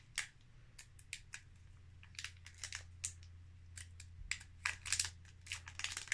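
Quiet crinkling and tearing of a Pokémon Sword and Shield Battle Styles booster pack wrapper being opened, soft irregular crackles and rustles over a low steady hum, close and faint, without speech.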